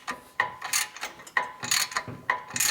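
A ratchet wrench tightening the cam chain tensioner bolt on a 2004 Harley FLHT 88 twin cam touring motorcycle, clicking in repeated short strokes, each a quick burst of ratcheting clicks, close and clear with no talk.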